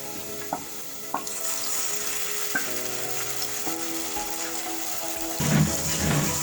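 Tomato paste and puree sautéing in a pan, a steady moderate sizzle with a few clicks and knocks of a utensil, growing louder and bubblier near the end as it is stirred.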